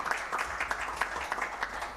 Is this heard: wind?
no